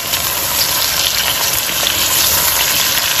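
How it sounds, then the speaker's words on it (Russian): Onion and pepper frying in a pan, producing a loud, continuous hissing sizzle at close range with no pauses. "Вот видите, поджарился лучок. И запускаю сюда перчик."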